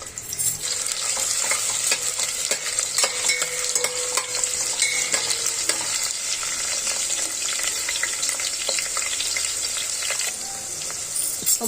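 Onion paste frying in oil for an aloo pudina masala gravy, a bright continuous sizzle with frequent scraping stirs of a spoon against the pan, close and steady throughout, no voices.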